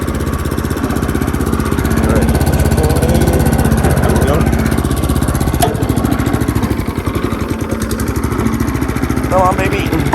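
Small garden tiller engine running loud and close with a steady pulsing chug while warming up at low throttle, with a person talking over it now and then.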